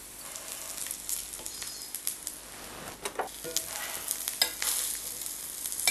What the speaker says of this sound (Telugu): దీనికి మనం డీప్ ఫ్రై చేయక్కర్లేదు, చక్కగా షాలో ఫ్రై చేసుకొని టిక్కియాస్ ఇలాగ వేయించేసుకుంటే చక్కగా తయారైపోతాయి